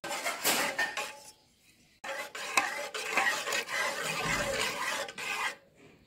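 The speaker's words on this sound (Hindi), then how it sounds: "अंडे को फेंटने के लिए 20 से 25 मिनट लगे हैं" Thirty-six beaten eggs being whisked in a large bowl for egg halwa, with rapid, scraping metallic strokes up close that come in bursts broken by short pauses.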